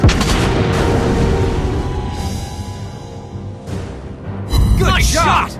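Heavy naval gunfire and shell impacts from the USS Cleveland cruiser in World of Warships Blitz, with loud deep booms and rumbling blasts that fade briefly and then return in a burst near the end.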